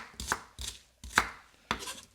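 A knife chops a sweet yellow onion on a board in four distinct, close strokes spaced about half a second apart, each a sharp thud with a short tail, in quiet surroundings.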